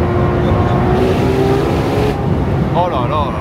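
A Ferrari 812 Competizione with a V12 engine revs loudly and steadily throughout, with engine harmonics rising toward the end, while people talk over it.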